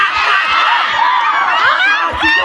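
A live audience roars with shouting, whoops and cheering in reaction to a dramatic line in a Christmas skit, a dense continuous crowd noise that stays loud throughout.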